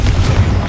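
A Confringo fire spell bursts in Hogwarts Legacy, a single short, loud, deep boom that rumbles heavily in the low end.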